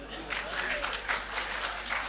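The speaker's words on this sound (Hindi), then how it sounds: "जो आपने घनघोर तालियां बजाई हैं" Dense, steady applause from a large audience at a poetry gathering, sustained throughout without a break.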